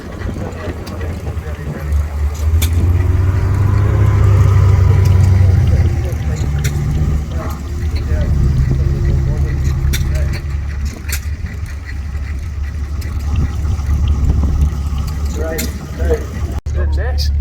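A low, steady engine rumble from vintage cars driving into an arena at a vintage vehicle event in Ladybank, Scotland, idling and rolling along throughout, with voices talking over it.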